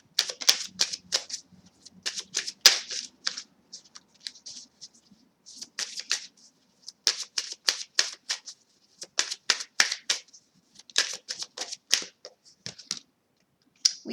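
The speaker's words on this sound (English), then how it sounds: "Let's get a card from the Shadows deck now." An oracle card deck is shuffled up close in quick bursts of crisp riffling flicks, broken by short pauses across the stretch, quiet and without talk.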